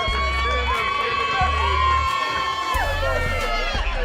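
Crowd cheering and applauding at a basketball final in St. Kitts as the MVP is introduced, loud shouts and whoops with children's voices over a bright sustained tone, a deep musical pulse thumping underneath.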